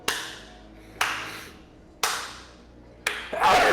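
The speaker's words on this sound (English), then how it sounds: "you hear a clap" Four sharp, isolated hand claps about a second apart, crisp and fairly close, each with a short decaying tail, the last one followed by a rising burst of noise; no talking.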